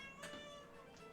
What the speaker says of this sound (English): Cat noise.